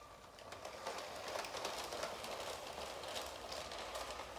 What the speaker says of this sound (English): Once the train goes round the track, it will take one of the tracks and the second time around the other track.